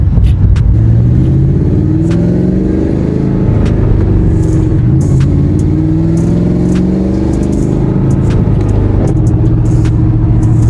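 A Whipple-supercharged 3-valve Ford Mustang engine roars and revs steadily, its deep rumble rising and falling in pitch as it accelerates, loud and close with no talking.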